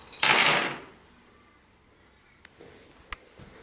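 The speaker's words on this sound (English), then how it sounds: "Okay, the keys are going to be on the table." A set of keys is dropped onto a table in a house, giving one loud, brief metallic jingle and clatter up close, followed by quiet room tone with a few faint knocks.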